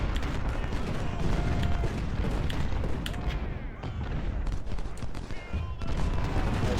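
Regiments fire volleys in the video game Ultimate General: Civil War, dense crackling musketry and booming shots rolling continuously, loud, with a voice talking over the battle.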